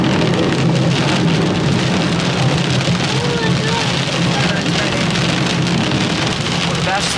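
Heavy rain pours steadily through a storm at an outdoor rodeo, a loud, dense hiss that holds for the whole stretch with faint distant rumbles mixed in.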